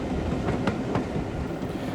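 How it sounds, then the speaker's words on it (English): A Southern Railway train headed by a Bulleid Pacific steam locomotive climbs toward the summit of the line, rolling steadily at middle distance with clickety-clack wheel beats and no talk. "Our train is headed by a Bullard Pacific as it climbs up to Morto at the summit of the line."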